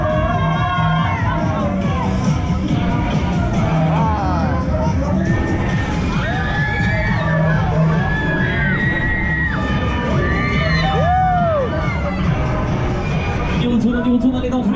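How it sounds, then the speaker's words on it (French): A lively crowd at an evening outdoor event in Grenay shouts, cheers and whoops continuously, with children's shrieks rising above a dense roar of voices for the whole stretch. "Alors j'aimerais vous entendre crier"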